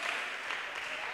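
A church congregation applauds and cheers in acclamation of the Lord, a dense, steady wash of clapping filling the short moment without pause.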